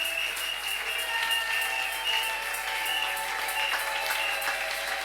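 A church congregation standing and applauding in acclaim, a steady wash of many hands clapping with a rhythmic pulse, fairly loud and continuous, with no clear speech over it.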